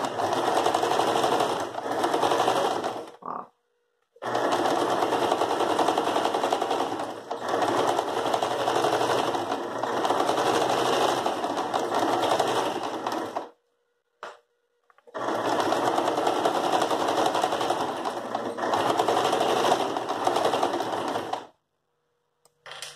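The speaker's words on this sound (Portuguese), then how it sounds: "E agora vamos fazer uma costura reta aqui" A sewing machine stitches a straight seam on a fabric dish towel with a fast, even, close mechanical whir. The whir runs in three long stretches separated by short pauses.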